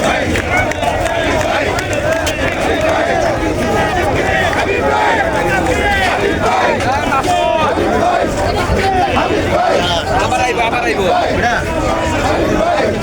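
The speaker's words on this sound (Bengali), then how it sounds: "ঢাকা ৯-এর বিশাল বড় এক মিছিল" A large BNP political procession for the Dhaka-9 seat in Bangladesh, a dense crowd chanting and shouting together in a constant, loud, close roar, with overlapping voices and one person speaking over the din.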